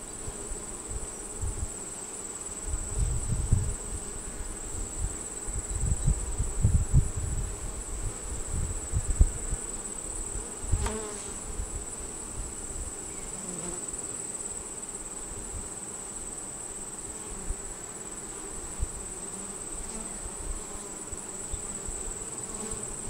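Honeybees swarm around an opened five-to-ten-frame hive during an inspection, a continuous agitated buzz with louder passes close to the ear at first, then settling into a steady hum.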